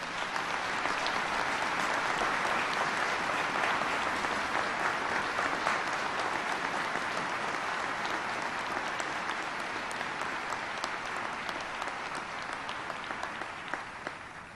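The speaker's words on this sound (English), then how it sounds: "please recognize our veterans' national leadership with your applause" Sustained audience applause at an outdoor Veterans Day wreath-laying ceremony at Arlington, a dense, even roar of clapping from a large crowd that stays loud throughout and tapers slightly at the end.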